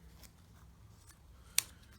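Scissors make one quick, crisp snip through stickable foam, a single short cut against a faint, quiet background.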